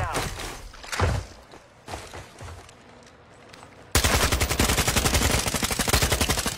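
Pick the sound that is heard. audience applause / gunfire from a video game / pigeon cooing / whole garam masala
gunfire from a video game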